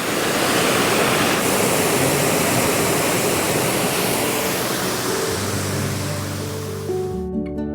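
A waterfall near Grasmere in the Lake District roars steadily in a thick, constant rush of falling water, loud and close, easing slightly toward the end.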